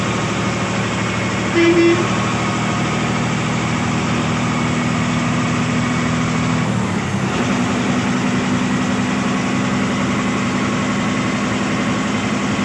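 A red MSRTC Lalpari bus, out of Kolhapur, hums steadily as its engine runs during a journey near Tasgaon, with a low droning rumble and a brief horn toot near the start, continuous and close throughout.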